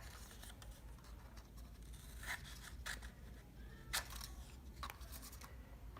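Scissors snipping a triangle out of paper for a notan design, with quiet, intermittent cuts and soft paper rustles close by in a hushed room.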